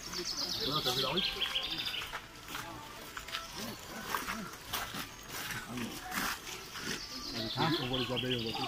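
Birds chirp and call throughout the bird show at the Puy du Fou theme park in France, under a dense, continuous wash of music and crowd sound. High tweets rise and fall across the steady background.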